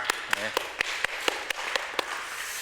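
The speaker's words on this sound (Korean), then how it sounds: "우리 하나님께 영광의 박수 올려드리겠습니다." Crisp claps land in a steady, regular rhythm during a Korean Sunday church worship service, fairly faint against a quiet room.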